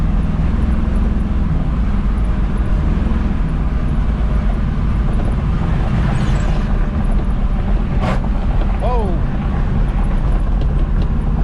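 A car drives with its transmission working through the gears, producing a constant low engine and road drone with faint passing sounds, while someone talks at times.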